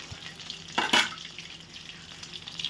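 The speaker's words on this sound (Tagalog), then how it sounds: "hahalo-haluin mo lang ang iyong piniprito" Lumpia frying submerged in hot oil, a soft continuous sizzle with a brief louder crackle as the rolls are stirred, no talking.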